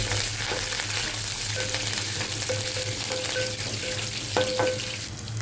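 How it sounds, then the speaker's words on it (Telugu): Dried red chillies, green chillies and curry leaves frying in hot oil in a pan, a continuous close sizzle with faint crackles and a few short clinks of a utensil. "ఎండుమిరపకాయలు, పచ్చిమిరపకాయలు, కరివేపాకు వేసుకొని ఫ్రై చేసుకోవాలి."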